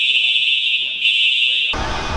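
A piercing electronic fire alarm, triggered by fog machine haze, sounds continuously at close range. A brief break comes partway through, then a sudden burst of broadband noise cuts in near the end.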